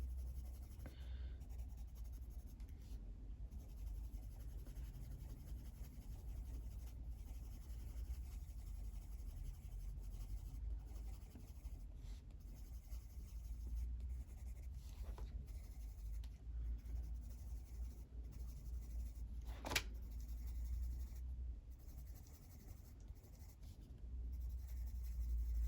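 Polychromos coloured pencil scratches across paper in soft, continuous strokes, very faint and close, with one sharp tap partway through.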